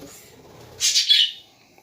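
A pet parrot gives a single bright, high chirp, brief and close, after a quiet stretch of faint low room sound.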